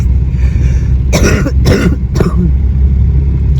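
A few short, harsh coughs close by, three quick bursts over a steady low engine rumble.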